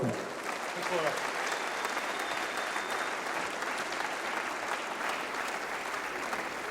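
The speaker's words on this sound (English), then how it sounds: "Thank you very much indeed for that warm applause" Warm, sustained applause from a squash championship audience greeting the defending national champion, steady dense clapping filling the hall for several seconds.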